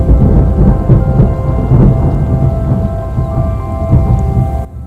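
Thunderstorm with steady rain in the video game Terra Nil, loud and continuous, with low rolling thunder rumbles swelling and fading throughout before cutting out abruptly at the end.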